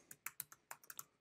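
Brief burst of quick keystrokes on a computer keyboard typing a word into a search box, about ten crisp close clicks in an uneven rhythm, quiet and without speech.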